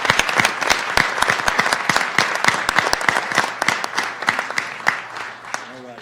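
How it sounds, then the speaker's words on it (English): A room full of people at a county commissioners court meeting gives a sustained round of applause for employee of the year honorees, dense steady clapping carrying on for several seconds before easing off near the end. "Let's give them one more round of applause"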